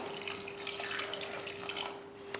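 Water pours in a short, close splashing stream into a pressure cooker for rasam, trailing off after a couple of seconds.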